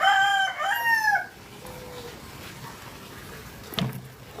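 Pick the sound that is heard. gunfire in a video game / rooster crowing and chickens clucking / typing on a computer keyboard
rooster crowing and chickens clucking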